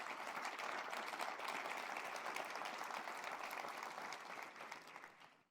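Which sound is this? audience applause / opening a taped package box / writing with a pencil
audience applause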